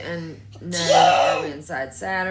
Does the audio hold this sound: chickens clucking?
no